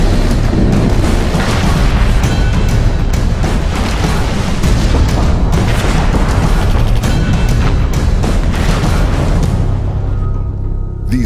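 Heavy booms and explosions from incoming fire pound continuously and loudly in the war video game Operation Flashpoint: Red River, layered into a dense, rumbling battle soundscape with no talk.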